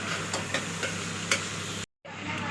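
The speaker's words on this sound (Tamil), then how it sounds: "இப்போ நல்லா மிக்ஸ் பண்ணி விடணும்" A spoon scrapes and stirs pav bhaji vegetables with chili powder, turmeric and salt in a pan, soft repeated scrapes over a low sizzle, close, with a brief cut to silence before the frying resumes.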